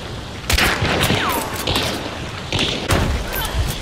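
Rapid bursts of gunfire from the video game Hunt: Showdown crackle through nearly four seconds, loud and close, with shots clustered in several volleys, while players talk over the action.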